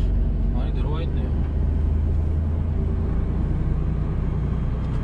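Steady car engine rumble and traffic noise at a busy highway rest area, with people talking nearby.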